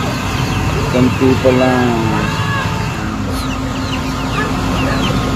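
Farm chickens clucking and calling in short bursts close by, with a few louder clucks early on, while a person speaks briefly over steady background noise.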